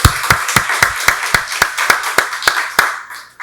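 A church congregation claps together during a Sunday worship service. The claps are sharp, loud and evenly spaced, about four per second, before stopping abruptly.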